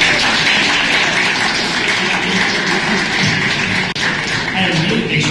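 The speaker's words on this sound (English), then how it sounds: "So let's give a round of applause for Andy." An audience at an August 2011 IGDA gaming meetup applauds speaker Andy with a loud, dense, steady roar of clapping that continues throughout, close and unbroken except for a brief dip near the middle.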